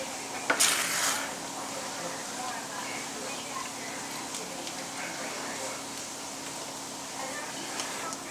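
Melted butter is stirred around a pot while making raw rice pudding, a soft scraping and faint sizzle running quietly throughout after a brief louder clatter near the start.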